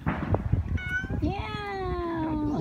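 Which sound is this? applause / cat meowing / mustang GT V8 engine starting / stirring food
cat meowing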